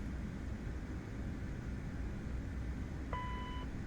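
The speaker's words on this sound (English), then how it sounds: "Why is it beeping?" A single short electronic warning beep sounds late in a CRJ-700 airliner cockpit, faint over a steady cockpit hum.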